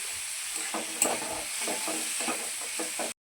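Vegetables frying with salt and turmeric in a pan while being stirred: a steady sizzle with repeated soft scraping strokes of a spoon, close and fairly quiet, ending abruptly.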